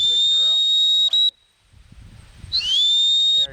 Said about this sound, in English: blow your whistle solid, beep